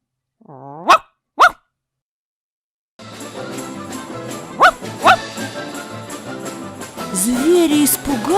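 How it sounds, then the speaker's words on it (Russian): A small dog barks twice in short, sharp bursts close by, then a busy stretch of music and ambient sound follows with a couple more bark-like accents. "Собачка тогда залаяла."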